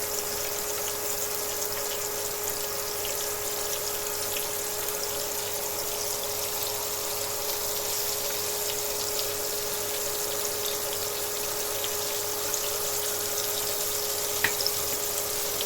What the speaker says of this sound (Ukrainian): І ось так обсмажуємо все наше м'ясо.